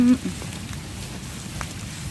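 Steady rain patters on surfaces outdoors while mushrooms are gathered, a dense continuous hiss with small drops, heard alone after a brief opening tone.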